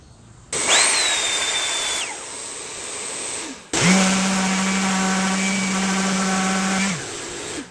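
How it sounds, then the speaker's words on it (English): A power sander levels a wooden guitar heel inlay in two bursts: a short run that winds down, a brief pause, then a longer, louder, steady whirring pass with a strong low drone before it spins down. "Now that I have the inlay together, I need to sand it down, get it leveled out"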